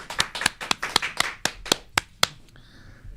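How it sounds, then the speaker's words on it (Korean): About ten sharp, separate hand claps sound in a quick, slightly uneven rhythm on a Korean talk show as a lawyer guest is welcomed, close and crisp, then fade into a brief quiet tone. "큰 박수로 환영해 주세요."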